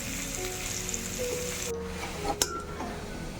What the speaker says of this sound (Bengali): ভাজার মধ্যেই যেন সিদ্ধটা ফ্রাই হয়ে আসে তো এটাকে আমি ঢাকা দিয়ে দিয়ে আস্তে আস্তে ভেজে নেব